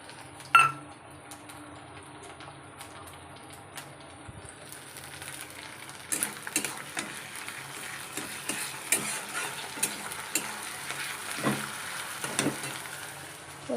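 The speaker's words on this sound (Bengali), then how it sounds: "এবার আমি রসুনটা দিয়ে দেবো।" Garlic hitting hot oil in a pan while cooking a Bengali meat curry, starting from a quiet simmer, then a sharper crackling sizzle builds with scattered pops and utensil clicks, close by and alone.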